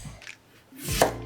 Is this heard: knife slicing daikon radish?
yes